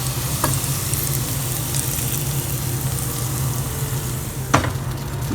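A coriander-leaf tempering with garam masala poured into a mushroom kurma curry, a steady, dense sizzle running throughout at close range, with a couple of brief sharp clicks of a utensil against the pan.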